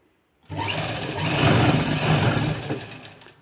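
A sewing machine runs steadily for about three seconds, stitching a lined suit. The motor hum and rapid needle clatter start abruptly, build slightly, then taper off at the end, loud and close with no talk.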